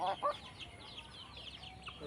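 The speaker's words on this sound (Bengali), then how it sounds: "আমার হাঁস মুরগি কেমন ছোটাছুটি করতেছে দেখেন খাবারের জন্য।" Free-range chickens and ducks cluck and call while running toward food, a few short bird calls up front followed by softer continuous clucking and chatter in the background.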